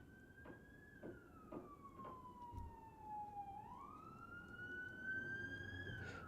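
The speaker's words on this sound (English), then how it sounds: "And that's when I get those sirens." Emergency vehicle siren wailing outdoors, a single tone sweeping down, then rising and holding steady at a moderate distance, over low traffic rumble with no talk.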